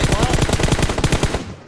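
Rapid automatic gunfire in PUBG Mobile, a fast steady burst of about a dozen loud shots over a second and a half, then stopping abruptly.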